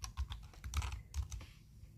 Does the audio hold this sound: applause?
no